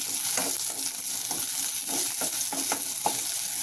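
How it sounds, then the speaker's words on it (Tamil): Brinjal (eggplant) sautéing in a pan for moor kulambu, with a close, continuous sizzle and a quick run of rhythmic stirring scrapes, heard alone without voices. "எப்படியே கொஞ்சம் நேரம் நல்லா வதக்கலாம்."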